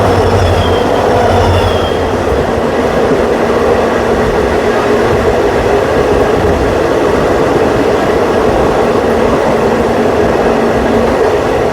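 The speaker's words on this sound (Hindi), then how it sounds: "बढ़िया सा लोकोमोटिव लगा हुआ है इसके अंदर" Salasar Express passenger train running behind its locomotive between Delhi and Jodhpur, a loud, continuous close rumble of wheels on track with steady rattling and a faint high squeal throughout.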